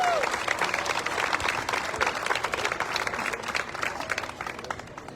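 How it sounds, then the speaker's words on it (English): Crowd applause for a Grand Marshal at an apple festival in Jackson, a steady outdoor round of clapping that holds for several seconds and slowly fades, with some murmured voices mixed in. "Let's give Grand Marshal Dave Channel a big round of applause."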